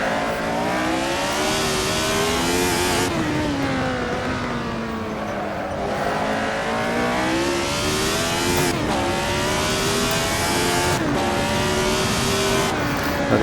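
A Lotus 72D race car's engine howls in a racing game, revving high through repeated gear changes with rising and falling pitch, loud and close throughout with no voices.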